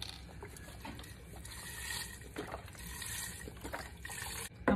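Generic broth pours into a soup pot for chicken noodle soup, a soft, faint trickle of liquid that runs steadily for a few seconds with no talk.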